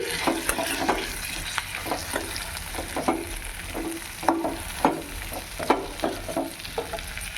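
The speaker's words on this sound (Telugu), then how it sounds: "ఇప్పుడు మనం ఆల్రెడీ మునక్కాయలు ఉడికించి పెట్టుకున్నాం కదా ఇందులోకి వేసుకోవాలన్నమాట ఆయిల్లో ఒక రెండు నిమిషాలు ఫ్రై చేసుకోవాలి" Boiled drumsticks frying in hot oil, a continuous close sizzle with regular scraping stirs of a spatula against the pan, moderately loud and without speech.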